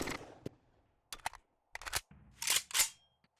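AK rifle in 7 Days To Die fires several sharp, close shots in uneven bursts, separated by short silent gaps.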